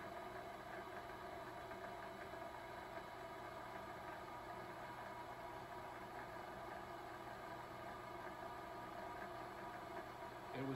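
Vevor mini lathe spinning at 500 RPM, a faint, steady motor hum with a constant whine throughout.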